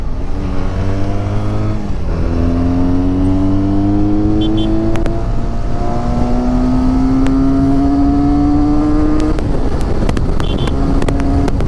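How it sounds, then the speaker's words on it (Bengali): Car engine accelerating hard on an open road with no exhaust fitted, loud and close, with a rising engine note that drops at each gear change and then climbs again. "খুব সুন্দর ইঞ্জিন, সাউন্ডও খুব ভালো একদম।"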